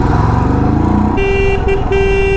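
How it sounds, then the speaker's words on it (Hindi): Steady road traffic rumble with a sustained vehicle horn blaring from about midway, briefly interrupted then resuming, close by and loud. "इस साइड हॉर्न बज रहे"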